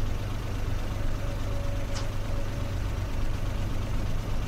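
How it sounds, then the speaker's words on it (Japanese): A parked, unoccupied car in a video game idles with a low, steady engine rumble throughout and a constant hum, close and unchanging, with one brief high chirp near the middle. "なんでこんなとこに放置してんの？ 車。 このエンジンかけっぱで。"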